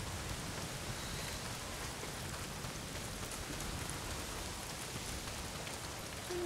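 Rain in the video game Days Gone falls as a steady, even hiss of drops that stays constant and fairly quiet throughout, with no voices.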